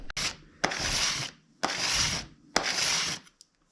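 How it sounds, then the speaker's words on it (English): A blade scrapes cured finish off a wooden serving tray in three steady strokes, each a rasping scrape about half a second long with short pauses between, close by and with no other sound. "I'm going to go ahead and scrape it off today"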